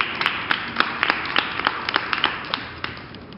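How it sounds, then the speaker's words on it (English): Clapping at a Black Fashion Week panel as a speaker is introduced, a thin run of separate hand claps, moderately near, fading slightly over a few seconds with no talk. "Let's give her a round of applause."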